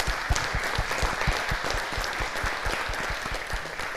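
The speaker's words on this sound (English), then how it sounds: "So big applause for the first batch." An audience at an event applauds warmly, a continuous close stream of many hands clapping with distinct individual claps standing out throughout.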